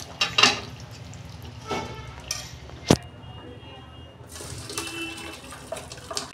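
Thin vegetable fish curry being poured out of the pot, a loose splashing and sloshing with a few sharp clinks and knocks of a utensil against the vessel, close and uneven.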